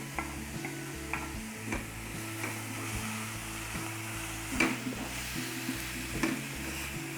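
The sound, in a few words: stirring and frying onion filling for savory pastry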